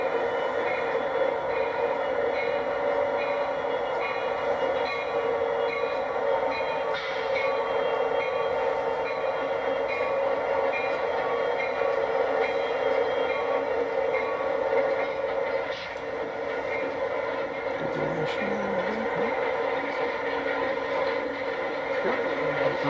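A Florida East Coast Railroad freight train pulls out of the yard, rolling steadily past nearby with a continuous rumble, metallic wheel hum and occasional squeals and clanks, the sound sustained and fairly loud throughout.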